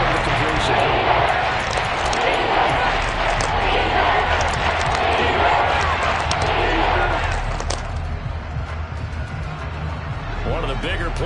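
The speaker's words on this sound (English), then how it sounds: "the crowd getting into it as we come up on a big 3rd down" A football stadium crowd buzzing and building ahead of a big third down, a broad, steady roar beneath close commentary talk.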